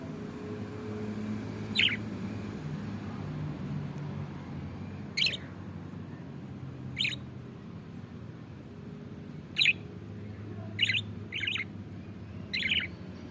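Budgerigars outdoors give sparse, short chirps, about seven separate calls spaced a second or two apart, clear and moderately close over a steady low background hum.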